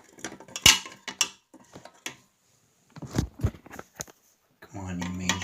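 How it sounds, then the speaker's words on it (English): A screwdriver prying a bulb out of the socket of a Broan/NuTone S0504B000 bath vent light gives brief metallic scrapes and clicks in scattered bursts, close and fairly quiet, ending in a steady low hum. "I try to get my screwdriver in between the socket and the bulb, and I pry that bulb."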